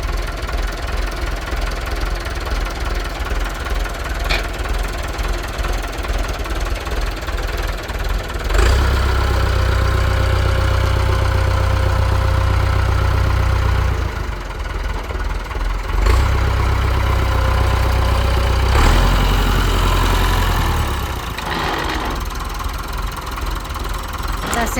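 A Massey Ferguson tractor engine running after a new starter motor was fitted, a loud, steady diesel chug with knocking, and heavier low-pitched stretches where it revs up between idling spells.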